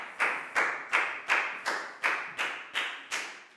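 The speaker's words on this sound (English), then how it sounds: "a big round of applause for Net" A school class claps for a student in rhythmic unison, about nine sharp, evenly spaced claps, loud and close, with no talking.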